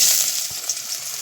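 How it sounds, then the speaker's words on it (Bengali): Chopped onion frying in hot oil in a pan while vegetable chop is made, giving an even close hissing sizzle with a faint stirring scrape partway through, and no talking. "প্রথমে তেল দিয়ে নিয়েছি, এবার পেঁয়াজ কুচি দিয়ে দেবো"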